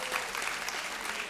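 A comedy-show audience claps in a brief, dense burst of applause at a French stand-up performance, a continuous crackle of many hands with no speech over it.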